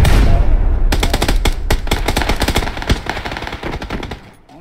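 Rapid bursts of automatic gunfire in PlayerUnknown's Battlegrounds, loud and close, dozens of sharp cracks in quick succession over a booming opening, tapering off at the end.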